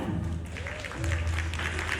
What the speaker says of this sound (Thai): เสียงปรบมือต้อนรับซีอีโซออนคลินิกคุณปฏิพัฒน์ลูกเกียง